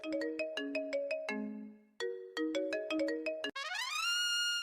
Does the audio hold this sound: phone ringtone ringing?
yes